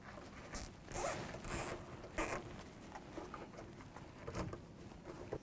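A plastic zip tie is ratcheted tight around a washer drain tube, a few quick close zipping rasps early on, then faint handling noises in a quiet room.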